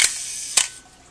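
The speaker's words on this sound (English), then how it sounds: "So the last click is actually the shutter going." A Pentax K1000 film camera fires its shutter at a slow speed, giving two crisp mechanical clicks about half a second apart, close and loud.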